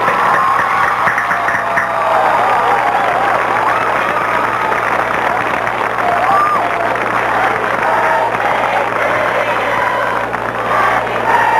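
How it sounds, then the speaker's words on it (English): A grandstand crowd at a 1988 high school football social applauds and cheers parents and athletes, a loud continuous wash of clapping and voices with scattered whoops and a low steady hum beneath. "let us please give a big round of applause to our parents and athletes for the fall season of 1988."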